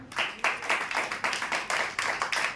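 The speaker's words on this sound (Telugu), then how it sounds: "అంతమంది గట్టిగా చప్పట్లు కొట్టండి" A church congregation claps loudly in unison, a fast, steady rhythm of sharp hand claps repeating for a few seconds with no talk over it.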